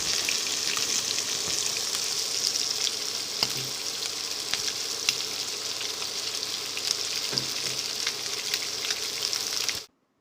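Fish frying in banana leaf on a large dosa griddle, a steady close hiss and sizzle that runs without a break and then cuts off abruptly at the end.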